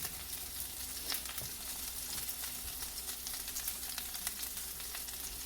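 Vegetables thrown into a hot pan sizzle and fry steadily, with faint crackles and a few stirring clicks, close and fairly quiet, no voices.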